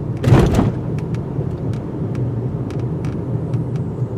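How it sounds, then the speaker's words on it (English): A single heavy thump and rumble as a 2018 Mitsubishi Eclipse Cross rolls over a speed bump at about 25 mph, then steady road and engine noise with faint ticks. "Let's see what happens when we hit some speed bumps at around 25 miles per hour."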